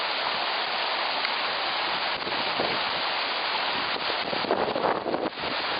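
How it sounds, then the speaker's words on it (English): A steady, dense rush of falling water roars continuously, loud and unbroken, from a nearby waterfall at Moraine Lake, Alberta, Canada. "You can hear a waterfall."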